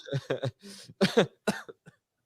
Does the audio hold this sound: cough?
yes